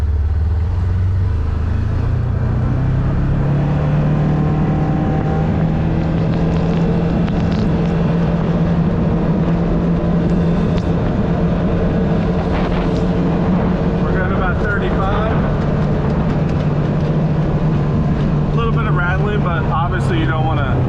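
Polaris Ranger 1000 side-by-side driving at speed with its flip-up windshield open, a steady loud roar of wind buffeting and engine drone throughout, with faint rattles on top.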